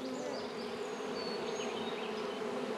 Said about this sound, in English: It looks like the bees have already started going in to the hive box right there.